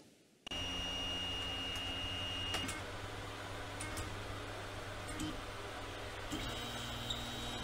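A 3D printer runs in a small Martinique workshop, giving a steady mechanical hum with faint whining motor tones and occasional ticks that continue unbroken for several seconds.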